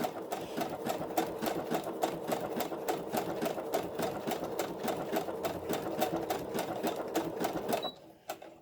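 A sewing machine stitches cloth in a fast, steady run of needle strokes, loud and close, continuing for most of the stretch before stopping abruptly near the end.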